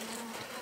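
Disturbed honeybees in a damaged clay hive with a gnawed nest and broken entrance, giving off a faint, steady buzzing drone with a thin tonal hum, heard alone.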